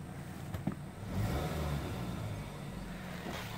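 A 2011 Chevrolet Malibu engine settles into a steady idle right after starting, a close, even rumble with a brief swell early on and no talking.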